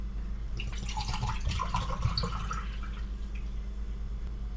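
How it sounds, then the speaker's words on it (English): Bottled water trickles and splashes steadily from a bottle into a glass, a continuous close pouring sound with bright little drips over a low background hum. "I'll use another bottle to finish filling up the glass"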